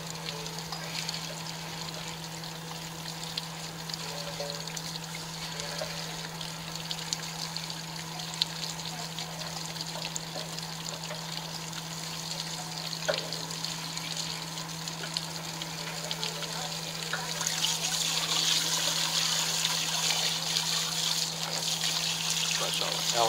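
Water flushes out of an RV water heater tank in a steady rushing stream with a constant low hum, growing slightly louder and hissier near the end.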